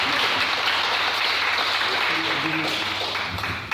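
A church congregation applauding and cheering, dense and loud clapping that fills the room steadily before slowly tapering off, with voices mixed in.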